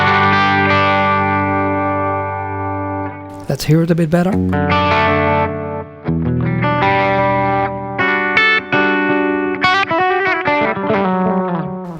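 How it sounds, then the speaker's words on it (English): Zoom G5 multi-effects guitar processor with its analog delay switched on, sustained distorted guitar chords and single notes trailing off in echoing repeats, loud and steady, with a short spoken phrase partway through. "Let's switch on the analog delay."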